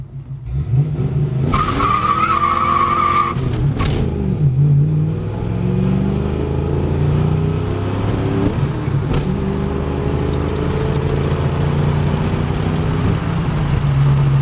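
A Saleen Mustang driving with loud, close engine roar that climbs and drops through several gear shifts, with rising revs, brief pauses between gears and a long sustained pull.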